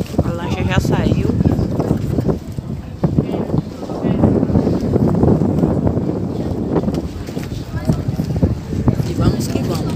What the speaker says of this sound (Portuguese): Aqui é lancha normal, convencional.